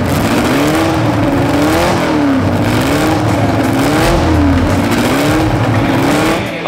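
Classic race car engines roar continuously and loudly at the Solitude Revival 2019, the pitch rising and falling in steady waves as several cars drive past on a track.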